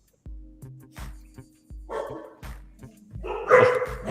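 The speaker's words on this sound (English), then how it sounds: "Oh, here come the dogs again." Several dogs bark repeatedly at close range, in short bursts spread over a few seconds, growing louder and rougher toward the end.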